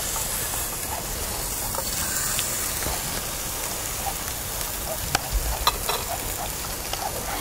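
Fish fries skin side down in a pan with a constant rain-like hiss and crackle up close, plus a couple of sharp taps near the end, with no speech.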